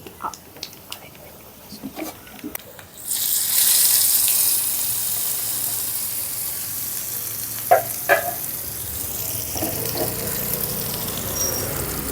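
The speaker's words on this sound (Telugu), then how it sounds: "ఇప్పుడు ఈ పోపుని చట్నీలో వేసేసుకుందాం" Hot tempering poured into a raw cucumber chutney sets off a sudden loud sizzle partway through, which then settles into a steady close hiss with a few light clinks, and no voices are heard.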